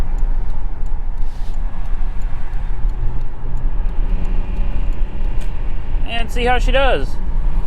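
Road and engine rumble from a VW Jetta VR6 cruising on the highway fills the steady background, with someone talking over it and a brief whistling, chirping noise near the end.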